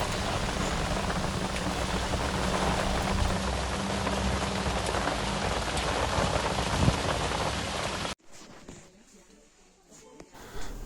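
Heavy rain mixed with hail pours down outdoors, a dense, loud wash of drops pattering on surfaces for about eight seconds before cutting to a much quieter scene.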